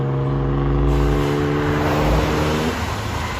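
A 2018 Toyota Tacoma 3.5L V6 with an aftermarket exhaust revs loudly up close, a deep droning note that holds steady and then eases off.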